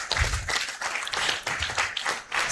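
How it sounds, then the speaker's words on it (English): An audience at an African Liberation Day celebration at the University of Cape Coast applauds a guest professor, with steady, fairly close clapping in rippling waves. "Can we give him an applause"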